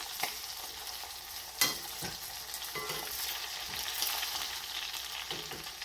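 Keto coconut shrimp coated in almond and coconut flour frying in oil, a continuous close crackling sizzle with a few sharp pops and scrapes, no voices.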